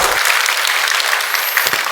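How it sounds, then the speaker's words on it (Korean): Church congregation at a Friday evening service in Gunsan applauds, a dense, steady wash of clapping that fills the whole two seconds. "큰 박수 한번 해주시면 고맙겠습니다"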